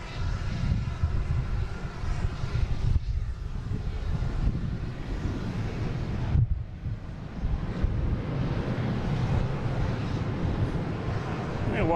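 An Airbus A330 airliner arriving from Barcelona at Boston Logan International Airport: a steady, broad jet roar over twelve seconds, mixed with gusty wind buffeting on the microphone.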